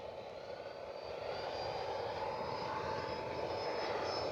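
FMS Dassault Rafale 80mm electric ducted-fan RC jet flying at full throttle during a maiden flight, a steady loud rushing whine with a thin high tone that holds and swells slightly, no voices.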